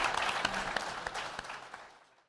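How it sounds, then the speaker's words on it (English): A crowd at a startup brewery challenge presentation gives a round of applause, with dense clapping and a few distinct sharp claps fading out to silence at the end. "big round of applause"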